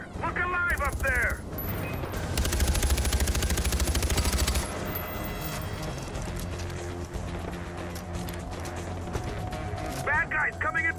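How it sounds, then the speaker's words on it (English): Gunfire in the video game Far Cry 4: a dense burst of rapid shots crackles for a couple of seconds amid game sound effects, with voices talking over the action. "I'm taking fire!"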